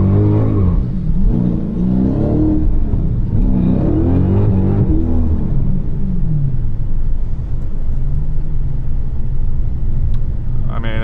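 A Dodge Challenger with a Whipple 426 supercharged engine after a tip-in tune correction, a loud close rumbling engine rising in revs under acceleration, with someone talking over it throughout.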